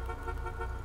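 A car horn on a modded Golf 8 GTI in GTA V sounds one steady, held tone, fairly quiet and unbroken for under a second.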